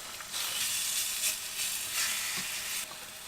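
Turmeric-marinated chicken breast seasoned with salt, pepper, balsamic vinegar and garam masala sizzles in a pan at a winter camp, a loud, steady close hiss with slight swells as the meat shifts, no voices.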